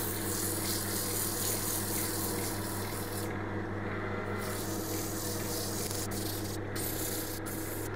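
Sandpaper of 120 grit rubbing steadily across a turned Afromosia wooden bowl spinning on a lathe, a continuous close abrasive hiss over a low motor hum, with brief pauses near the middle and end.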